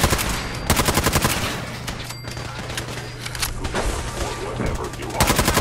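Automatic and single gunfire from the video game Fallout 4, loud bursts of rapid shots at the start, mid-clip and end with quieter stretches between, and a voice speaking over the combat.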